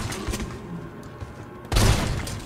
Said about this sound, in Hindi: ऐसा भी नहीं कि बड़ी तोप है ये गन